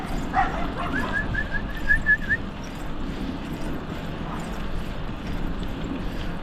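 Dogs bark and yip while chasing a cyclist on an evening ride on a Trek bicycle, heard over steady wind rush, with a short whistled tone early on.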